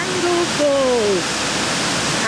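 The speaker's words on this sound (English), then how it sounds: "Peeing down with rain. So into the rain we go. We're at Dangle Falls." Heavy rain pours steadily at Dangar Falls in northern NSW, a loud continuous hiss and roar of water, while a voice sounds briefly over it.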